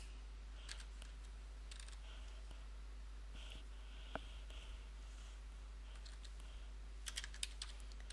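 Faint, scattered keystrokes on a computer keyboard while HTML code is entered, coming in small irregular bursts over a steady low background hum with no talking.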